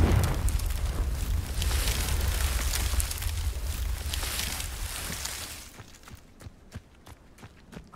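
A Confringo fire-blast spell explodes in Hogwarts Legacy with a loud, sustained roaring burst of rumbling fire and debris that fades after about five seconds into scattered crackles and light footsteps.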